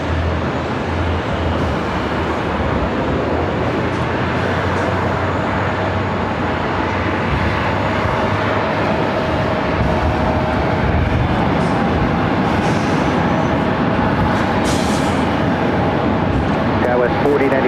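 A Boeing 777-300ER jet taking off from LAX runway 24 left, a broad, steady roar that holds throughout, with a radio voice talking over it.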